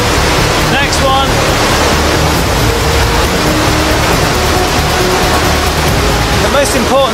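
River rapids inside Son Doong cave, a loud, constant roar of rushing water filling the space, broad and unbroken throughout with no pauses.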